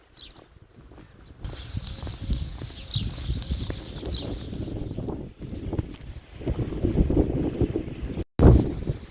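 Strong wind gusts buffet an outdoor microphone near a bridge, a rough rumbling roar that swells and fades unevenly and builds toward a loud burst near the end, with no voices.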